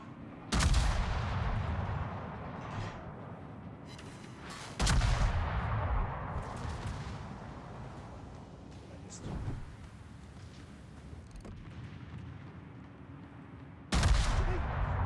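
Battleship main guns firing in the naval combat game World of Warships, aboard a Bellerophon-class battleship; heavy booming salvos land at intervals, each decaying into a long rumbling tail, with someone talking between them.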